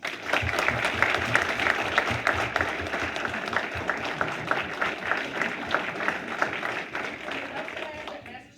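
Audience applause at a military retirement ceremony for MSgt Coleman, honoring Mrs. Jenica Coleman: a steady, dense wash of clapping from a roomful of people, sustained and fairly loud throughout before tapering at the end.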